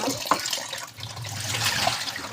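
Tap water runs steadily in an Egyptian home kitchen as leafy greens are rinsed while oil heats for frying falafel, a close, continuous splashing hiss with no talk.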